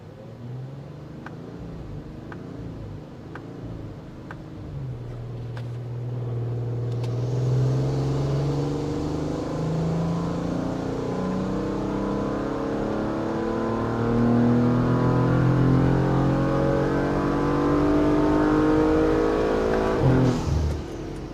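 A 2022 Audi RS5 (B9.5) running E85 on a tuning session builds from a steady rumble into a long, loud rising rev as the engine is pulled through the gears, then cuts off sharply near the end.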